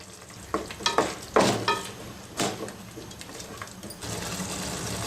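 Methi paneer gravy masala with tomato paste fries in a pan, a steady sizzle with several sharp stirring scrapes and clanks from a spatula up close, and no talking.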